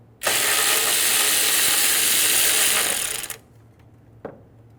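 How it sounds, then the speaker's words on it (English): A 10mm socket ratchet clicks rapidly and steadily for about three seconds while loosening the coolant tank bolt on a 2000-2007 Ford Focus, close and loud, followed by a single faint tap. "remove the bolt for the coolant tank"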